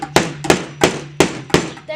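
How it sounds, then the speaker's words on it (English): A hammer strikes nails into wood while building a DIY bird feeder, five sharp loud blows at roughly even intervals with a faint background hum. "I need your hammer."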